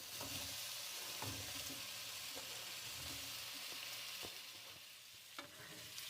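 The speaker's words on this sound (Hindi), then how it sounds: "एक पैन में 2 से 3 बड़े चम्मच तेल लेंगे और अब इसमें शामिल करेंगे कटे हुए आलू।" Chopped potatoes sizzle and fry in two to three spoonfuls of oil in a pan, a steady loud crackle with scattered scraping stirs throughout, no voices.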